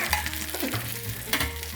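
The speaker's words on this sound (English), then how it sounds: "we got done with sauteing them in the pan with butter" Turkey cutlets sauteing in butter in a skillet, a close crackling sizzle with quick scraping stirs and a couple of utensil knocks.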